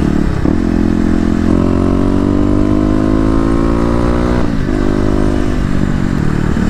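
Kawasaki KLX250 dirt bike engine revving loud and close, pitch climbing steadily over a few seconds, dropping, then pulling up again with a raspy mechanical edge.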